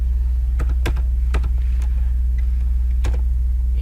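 Keys clack on a computer keyboard while code is edited in Android Studio, a few distinct close taps scattered over a steady low hum, with no voices.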